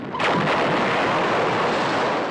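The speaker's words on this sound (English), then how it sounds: "Explosion." A sudden loud explosive blast that erupts and then rumbles on as a sustained, roaring wash of noise with no voices.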